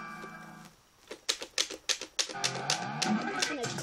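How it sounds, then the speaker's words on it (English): A Guitar Hero controller clicks loudly and close, with a run of sharp, rhythmic plastic taps that then merges with the game's music. "My clicking is insanely loud."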